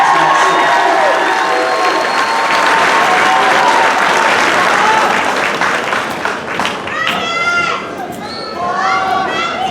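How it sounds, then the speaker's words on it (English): Graduation ceremony crowd applauding loudly and continuously, with cheers and whoops rising over the clapping before it thins toward the end. "One more round of applause for Ms. Colbert who made that."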